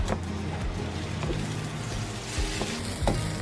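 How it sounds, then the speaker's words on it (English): Large eggs sizzling and being scrambled in a hot wok beside sauce-soaked noodles for curry pad thai, a soft steady fry with scattered scraping and clacking of the utensil against the pan. "crack 2 large eggs directly into it and scramble them"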